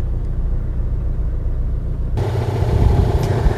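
A modified Opel Blazer with an aftermarket exhaust idles close by as a low, even rumble that turns louder and rougher partway through, with no talk.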